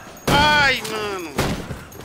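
Gunfire in a multiplayer shooter game amid flashbangs and grenades, a sharp loud burst followed by a shorter second blast, with excited voices talking over the action.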